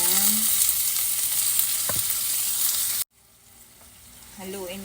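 Shrimp paste frying with vinegar in a pan sizzles steadily with the scrape of stirring, then cuts off abruptly and returns as a softer hiss.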